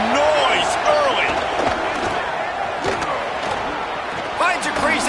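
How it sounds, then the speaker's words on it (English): Stadium crowd noise from a College Football 27 game, Alabama against South Carolina, a steady loud roar with rising cheers throughout, mixed with whistling sweeps and play-by-play commentary over it. "This crowd bringing the energy and noise early"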